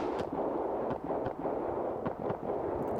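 A Beretta M9A4 pistol fires a quick string of several shots, sharp reports landing in an uneven rhythm over a loud, dense background roar, each crack brief and somewhat blurred by the surrounding noise.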